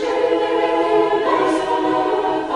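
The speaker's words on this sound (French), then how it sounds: "je suis sûr que cette musique vous évoque Noël" Christmas music from Home Alone, based on a traditional Ukrainian chant, playing as a sustained harmonic choral or orchestral passage, steady and fairly loud with no talking.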